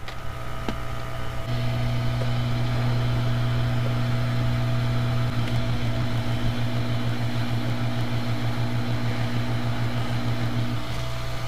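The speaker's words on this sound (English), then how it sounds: "I'm just going to take my hot air at about 300 degrees Celsius and then heat it until all the solder paste melts onto the pads" A hot air rework station set to about 300°C blows onto solder paste on NAND pads while upgrading an Apple Silicon DTK board, giving a steady, close whirring fan hum with a constant tonal drone and no talk.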